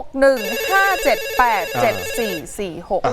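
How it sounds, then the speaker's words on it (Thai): A telephone rings during a news segment about raising giant field rats, playing a loud, close electronic ringtone melody of repeated bright tones that runs for about three seconds and stands alone without other sounds. "ทีมงานรับโทรศัพท์หน่อยฮะ"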